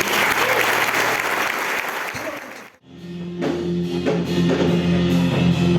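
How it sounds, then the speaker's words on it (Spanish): A church congregation applauds loudly, the clapping fades briefly to near silence, then a second round of applause rises again with a low sustained tone underneath. "denle un aplauso nuevamente al Rey"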